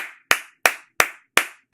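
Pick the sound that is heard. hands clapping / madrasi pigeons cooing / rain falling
hands clapping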